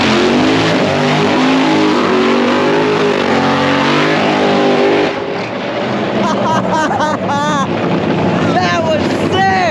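A nitro funny car at a drag strip makes a run, its engine a loud, harsh roar that rises in pitch and then cuts out, leaving wind noise, an engine revving in bursts and excited voices nearby.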